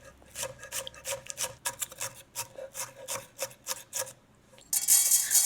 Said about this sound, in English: Dice some onions.